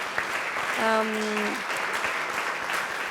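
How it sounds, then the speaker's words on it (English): A room of people at a conference on inclusion and disability in sport applauds a morning's panelists, producing a steady, moderate wash of clapping, and a sustained voice-like tone rises briefly near the start. "I want you to give an applause to these magnificent panelists of this morning."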